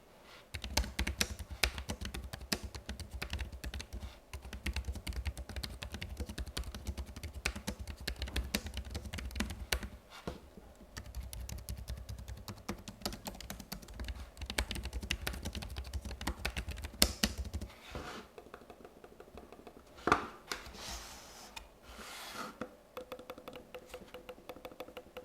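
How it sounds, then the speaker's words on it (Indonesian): Rapid, continuous clacking of typing on a Logitech Pebble 2 Combo keyboard, with mouse clicks mixed in, sounds close and fairly soft, with a few short pauses and sharper taps near the end. "kalian bisa langsung lihat aja mulai dari si mouse-nya ini kliknya seperti apa, dan juga ketikan di keyboard-nya ini apakah silent atau enggak"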